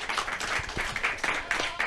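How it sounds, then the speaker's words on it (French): Lecture audience applauding a speaker, a brief patter of many clapping hands at moderate distance, fairly quiet and steady. "on peut l'applaudir bien fort"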